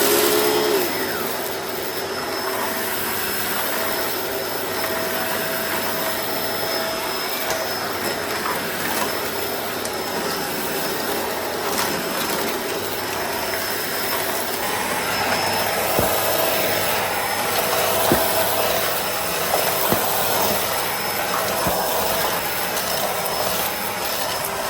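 A Bissell Pet Eraser Turbo vacuum cleaner runs at full power, a loud, steady roaring whine that holds unbroken for about twenty-five seconds with no speech over it.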